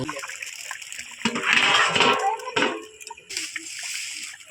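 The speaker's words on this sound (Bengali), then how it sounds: "এবার তরকারির মধ্যে জল দেবো, পরিমাণ মতো জল দেবো" Water poured into a pan of simmering fish curry, a close splashing and sloshing in several uneven bursts with short pauses between them.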